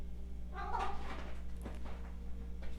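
A pet cat gives a short meow close by, a single mid-pitched call rising over a steady low hum with no other clear sounds around it.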